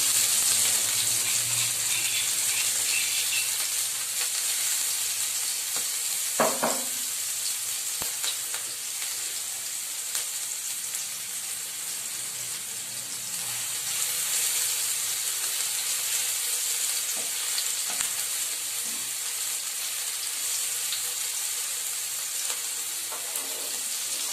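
Panch phoron spices fry in hot oil while aubergine is cooked, a steady close hiss and sizzle running throughout with a few faint clinks and stirring scrapes.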